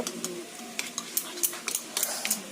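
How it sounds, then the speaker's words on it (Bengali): Yogurt is stirred in a bowl with a spoon, giving a busy run of light clicks and soft scrapes against the bowl's sides, close and moderately loud. "এই দেখুন খানিকটা দই নিয়ে নিচ্ছি এটাকে ভালো করে মিশিয়ে নেব"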